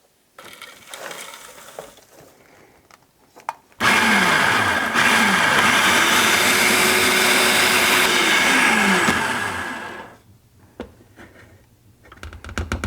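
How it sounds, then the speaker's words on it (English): A food processor grinds freeze-dried minced ginger into powder, starting abruptly with a loud, dense whir that holds steady for about six seconds before winding down. Light rattles and handling noises come before and after. "We're gonna run this through a food processor, get it into a powder form before we bag this up"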